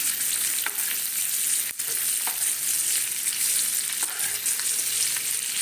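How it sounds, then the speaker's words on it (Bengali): Boiled potatoes frying slowly in oil in a pan for a vegetarian aloo dum, a steady close hiss of sizzling with a few faint scrapes and taps, no voices. "এটাকে আমি রয়ে বসে ভাজি"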